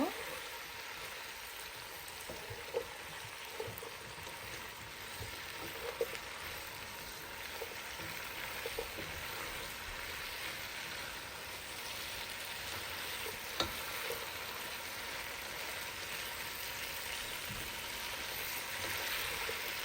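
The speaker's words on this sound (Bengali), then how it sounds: "এই যে ব্রোকলি, গ্রিন পেপার, রেড পেপারগুলো। এই যে ভালো করে আমি মিক্স করে নেব।" Broccoli with green and red peppers fries in a pan, a low continuous sizzle with faint occasional clicks and scrapes of stirring, quiet and even throughout.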